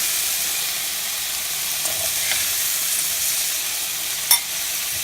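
Cauliflower and peas fry in hot oil in a pan, giving a steady, close sizzle and hiss throughout, with one brief clink of a utensil near the end and no talk.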